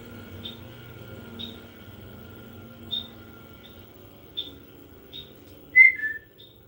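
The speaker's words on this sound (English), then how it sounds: "Your birds always sound so lovely in the background, Serendipity." Small birds outdoors chirp faintly in the distance, with short, sparse calls every second or so over a low, steady background hum.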